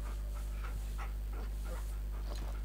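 A tamed beast dog in Far Cry Primal pants steadily in rhythmic breaths over a constant loud hum of game background noise.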